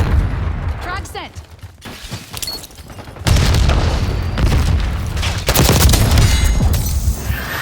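Frag grenade explosions in Call of Duty Black Ops 6, heavy booming blasts with crackling debris amid bursts of gunfire, loud and dense, with a voice speaking briefly.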